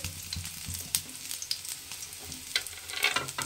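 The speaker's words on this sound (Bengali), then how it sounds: "প্রথমে দিয়ে দেব রসুন কুচিটা। তেলটা গরম হয়ে গেছে," Finely chopped garlic fries in hot oil for an aubergine bharta, producing a soft, steady sizzle punctuated by sharp pops and spatters, close by and fairly quiet.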